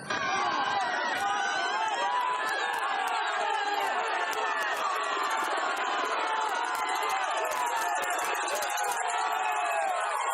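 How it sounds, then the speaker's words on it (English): Roadside spectators cheering on a cyclist near the Tour de Yorkshire finish, a dense continuous roar of shouting voices with rattling clappers or horns, loud and close throughout. "The crowd urging him on now"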